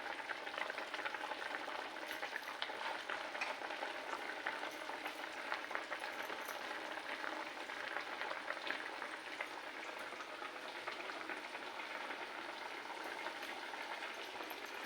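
Fish curry simmering in a pan, a continuous fine crackling sizzle with soft bubbling, steady and moderately close with no voices.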